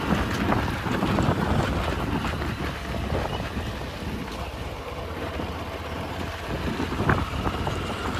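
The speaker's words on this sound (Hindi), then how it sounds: "हवा बहुत चल रही है, पता नहीं आवाज़ सही से आ रही होगी या नहीं।" Strong wind buffets the microphone continuously in an open farm field, a loud rough roar with gusty bursts and no clear voices.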